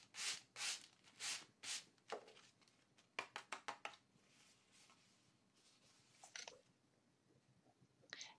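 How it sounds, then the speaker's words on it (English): Sandpaper rubs across an embossed paper surface, lifting the top layer on a sunburst-patterned gift box: a run of rhythmic scratchy strokes, then a rapid burst of shorter ones and a few scattered scrapes, close and quiet. "So I'm sanding the top off a little bit."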